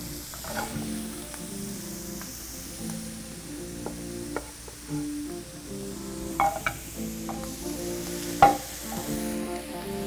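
Fried rice ingredients sizzle on a hot griddle, a soft continuous frying hiss broken by scraping, stirring and occasional clinks of utensils, moderately quiet with no talking.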